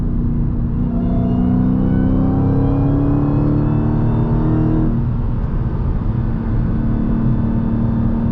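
A Dodge Challenger SRT Demon's supercharged engine pulls hard while driving, its loud, steady harmonic drone rising in pitch for about five seconds before easing off into a deep rumbling cruise, heard close from inside the car with no talking.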